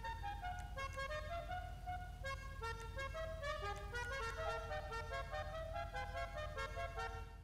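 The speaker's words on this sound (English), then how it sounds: "Horn, I love these." Horn melodies from a car in GTA 5 play as a fast run of bright, musical notes, sustained and fairly faint over a steady low rumble, with no talking.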